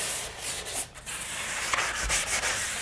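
Hand sanding of an interior window frame being prepared for paint, with a steady close scratchy rubbing of sandpaper in short back-and-forth strokes and no talk.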